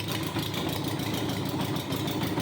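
A Honda Gold Wing GL1200 motorcycle engine idles steadily and loudly close by, with a continuous rumbling throb and no voices.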